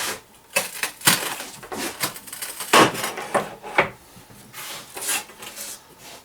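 A manual tile cutter scoring and snapping porcelain stoneware tile, heard as a series of sharp scraping rubs and clacks at close range, several distinct strokes over a quiet background.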